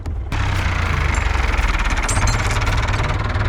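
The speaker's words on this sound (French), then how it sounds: "mon père il galère à démarrer la tronçonneuse" On a farm, a chainsaw engine sputters and runs with a loud, rough, rapid knocking rhythm that holds steady for a few seconds, close by and with no talking.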